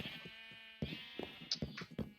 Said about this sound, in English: so in case we need to rebreed any of the sheep downstairs, we can get them